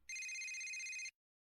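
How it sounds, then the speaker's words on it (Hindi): A phone rings with an incoming call, a single bright electronic ring tone lasting about a second, clear and close, then cutting off into silence. "तभी तरुण के फोन पर एक कॉल आता है।"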